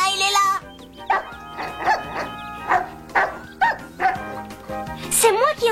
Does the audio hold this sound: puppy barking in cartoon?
yes